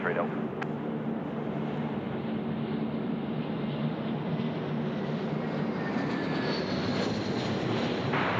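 Turboprop engines of a FlyPelican airliner at Sydney Airport on a windy day, a steady broad roar that slowly shifts in pitch, heard under close talk.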